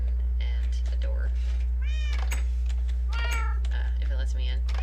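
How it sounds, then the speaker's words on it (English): Several cats meowing in a Minecraft game world, overlapping high, wavering meows that come repeatedly over a steady low electrical hum, close and fairly clear. "I have cats. I put a lot of cats in here."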